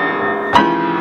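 Four-part Renaissance polyphony in syllabic style holds a sustained, full chord, with a brief accented shift midway through the short phrase.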